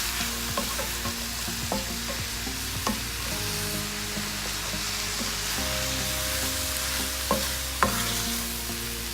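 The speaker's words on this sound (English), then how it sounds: "I'm just gonna let the broccoli saute" Broccoli sautéing in olive oil with seasoning in a pan, giving a steady low sizzle with occasional stirring clicks and scrapes from a utensil, quiet and continuous with no talk.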